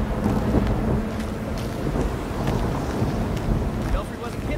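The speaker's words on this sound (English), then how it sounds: "Belfry wasn't kidding about this storm." Storm wind roars at sea in the video game Gotham Knights, loud, gusty and continuous with rumbling low-end buffeting and no pauses.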